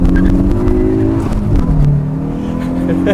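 Right after starting, a Hyundai i20N's engine revs up close and loud in a short burst. A strong droning note holds, then dips and settles into a rough, throbbing idle.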